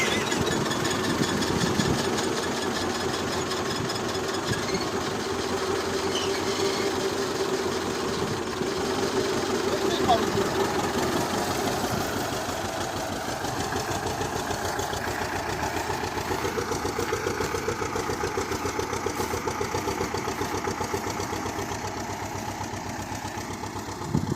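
A tractor's diesel engine idles steadily with a rapid, even knocking rhythm, close and continuous throughout.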